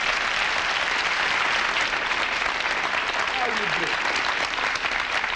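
A studio audience at a television variety show applauds loudly and continuously, dense clapping filling the room while a voice briefly speaks over it.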